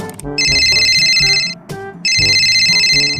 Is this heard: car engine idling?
no